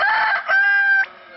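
A rooster crows loudly and close, one drawn-out cock-a-doodle-doo call lasting about a second, alone without speech.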